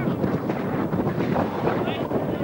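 Strong wind buffets the camera microphone at an outdoor rugby match, a constant low roaring rumble filling the whole stretch with no breaks.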